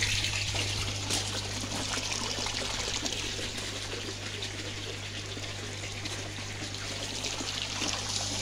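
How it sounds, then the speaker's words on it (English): Water from a pump steadily trickles and pours into an aquaponics fish tank, a continuous splashing flow over a low mechanical hum. "the pump at the tail end is also returning water back into the fish tank."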